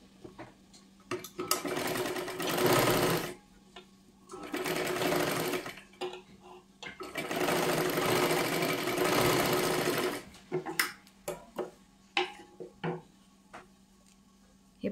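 A sewing machine double-stitches a seam on a princess-cut blouse in several bursts of a few seconds each, loud and near, separated by quiet pauses with small handling clicks.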